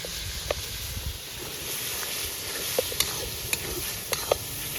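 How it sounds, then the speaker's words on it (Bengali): Garlic, tomato and chili sautéing in a pan: a continuous hiss of frying with sharp clinks and scrapes of a spoon stirring against the metal at irregular intervals, close and fairly loud. "রসুন টমেটো লঙ্কা কষানো হচ্ছে"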